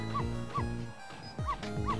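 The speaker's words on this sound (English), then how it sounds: "No, Missile, you're not supposed to bark!" A small dog in the game Ghost Trick lets out four short, yappy barks in a steady rhythm with a pause in the middle, clear and close with no voices over them.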